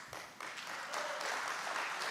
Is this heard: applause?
yes